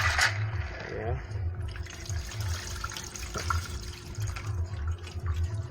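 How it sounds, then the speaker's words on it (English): Dried peas for Jamaican-style stew peas with chicken foot being rinsed under a running kitchen tap, a steady low wash of water with light splashes while someone talks over it. "I have to rinse off your peas then."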